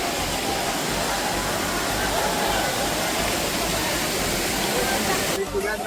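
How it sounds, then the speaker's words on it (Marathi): Savatkada waterfall near Rajapur in monsoon roars as a loud, steady broadband rush of falling water, continuous throughout and close by, with faint voices around it. "पण आलोय धबधब्याजवळ"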